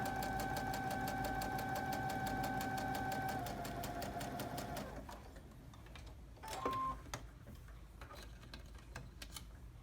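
A sewing machine stitches the back side of a tailored sleeve placket, running in a steady rapid chatter, then slowing and stopping with a few clicks as it pivots, close and fairly quiet.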